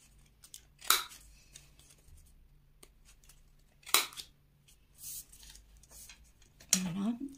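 Scissors snip three times, crisp and close, each cut clearly separated by quiet pauses, while rounding the corners of scrapbooking paper for a handmade jewelry box bag.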